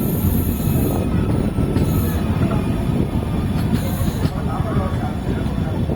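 A new passenger train service runs at speed on rails near Thillaivilagam, giving a loud, continuous rumble and rattle of wheels with brief squeals, heard from on board while people talk.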